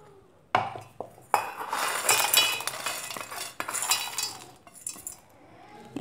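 Clinking and scraping of utensils against a metal mixer-grinder jar as cooled vada pav chutney ingredients are tipped in, with a few sharp knocks and rattles close by.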